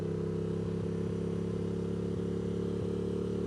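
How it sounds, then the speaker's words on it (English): A motorcycle engine drones steadily and close while riding, with a low rumbling hum and a few light rattles and clicks over it. "since I finally have my bike back and running, I cannot keep myself off of it"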